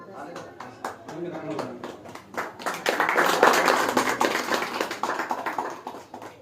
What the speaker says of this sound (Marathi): सगळ्यांनी टाळ्या वाजवून स्वागत करावं